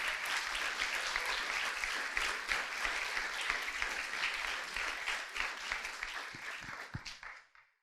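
A church congregation applauds loudly and steadily during a sermon, a dense wash of clapping that holds for several seconds and then fades away at the end.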